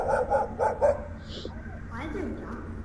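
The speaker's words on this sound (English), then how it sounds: "Did you hear that dog?" A dog barks several times in quick succession in a virtual reality game, fairly loud and close, followed by a whimpering sound, with a person talking.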